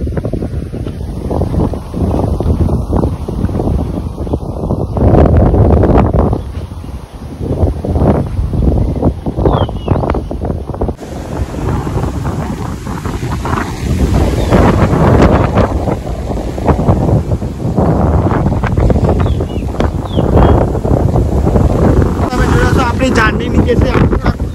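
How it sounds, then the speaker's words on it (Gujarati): Strong wind buffets the microphone outdoors near a Mahindra Thar 4x4, a steady loud roar with gusty surges throughout, while voices talk over it. "તમે જોયા છો ખૂબ જ પવન ચાલુ થઈ ગયો છે"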